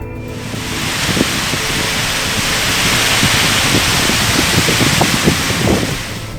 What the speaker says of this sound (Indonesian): hujan disertai angin kencang melanda Kabupaten Madiun